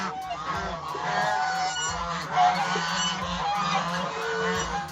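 A goose on a farm honks again and again, loud nasal calls overlapping in a noisy, agitated stretch with low thumps beneath.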